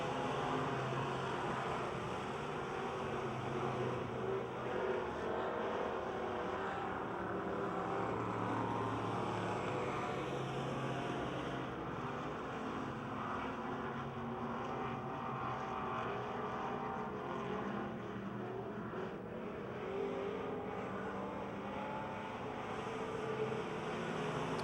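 Race cars lapping at Pennsylvania Motor Speedway produce a steady, distant roar of engines that holds without a break for the whole stretch, blurred and even, with no clear talk over it.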